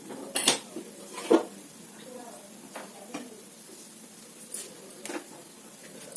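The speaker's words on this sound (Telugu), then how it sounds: "ఇలా బాండీ అయితే పెట్టేసుకోండి ఫ్రెండ్స్." Metal kadai pan set down on a kitchen stove, a couple of sharp close clanks and clinks near the start followed by softer scattered taps, with a person talking.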